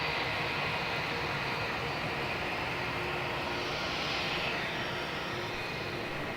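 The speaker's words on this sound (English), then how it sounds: "all that racket is a Jetstar 320 pulling into the gate in front of us here" A Jetstar Airbus A320 taxis into the gate at Melbourne Airport, giving a steady, loud broadband jet-engine roar and whine that holds evenly throughout, close by with no talk over it.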